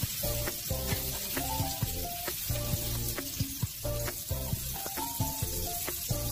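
Butter sizzles steadily in a hot pan as the base for a pasta sauce, a close, continuous crackle with light clinks of a utensil stirring and no talking.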